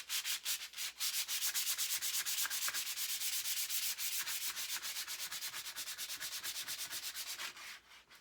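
Hand sanding with 120 grit sandpaper, a brisk, rhythmic back-and-forth scratching of roughly two strokes per second, close and steady, tapering off at the end.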